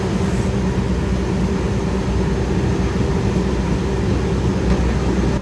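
A PT206 locomotive that had been pulling the Argo Cirebon shunts along a track at Juanda station, giving a loud, continuous low diesel rumble with a steady drone throughout and no talk.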